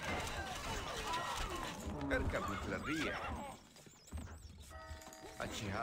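In the video game Stronghold Crusader, a horse whinnies and its hooves clatter in a galloping rhythm amid battle noise and game voices, heard at moderate distance and fairly quiet.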